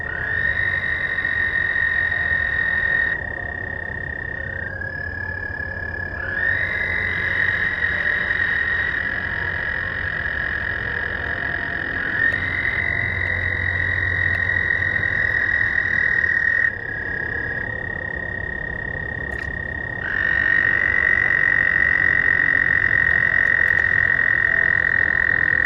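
Toads trill in a spring breeding pool at night, long overlapping high-pitched calls from several males forming a steady chorus that shifts as individual callers start and stop, close and loud.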